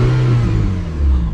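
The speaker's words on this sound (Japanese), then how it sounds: "さあ、エンジンちょっと吹かします。" An Alpine A110R engine revs loudly close by, a steady low mechanical roar that swells and drops slightly over a short burst, with no talking.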